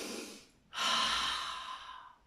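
A person imitates forced, effortful qigong breathing: a long breath out, a brief pause, then a loud forceful rush of air that slowly fades, close and alone.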